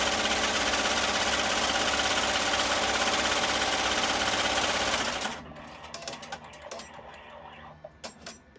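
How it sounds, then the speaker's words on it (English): An in-hoop embroidery machine stitches a placement line on fabric for a face mask, a loud, steady mechanical whir that runs for about five seconds, then stops abruptly, leaving faint handling noises. "First step that it's going to do is it's going to stitch my placement line of where I need to put the top edge of"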